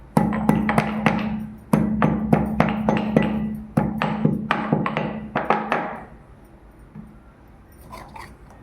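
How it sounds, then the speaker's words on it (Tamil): Rapid series of sharp pounding thuds as about ten black peppercorns are crushed, in quick bursts for several seconds before fading to quiet. "ஒரு 10 மிளகு, அதையும் 1 2 அப்படி நுடிக்கலாம்."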